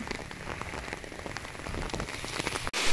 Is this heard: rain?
yes